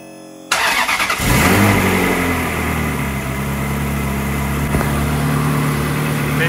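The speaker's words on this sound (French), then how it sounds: "Je vais aller démarrer le moteur et je vous reprends tout de suite." A car engine cranks and catches, briefly revs, then settles into a steady, loud running hum close by.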